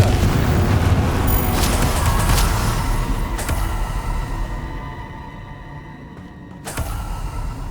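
A Confringo spell explosion in Hogwarts Legacy booms loudly at the start, its rumble rolling and fading over several seconds before a second sharp burst near the end.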